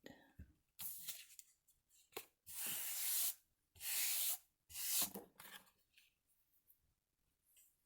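Scissors snip through fluffy eyelash yarn tied onto a paper journal tag, giving several bursts of crisp, hissy cutting and rubbing close up, separated by short quiet gaps.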